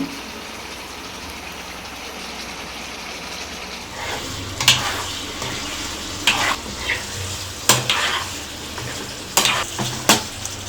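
Mutton liver seasoned with salt and chili powder sizzles steadily in a pan, a constant frying hiss broken by several louder bursts of stirring and scraping in the later half, with no voices.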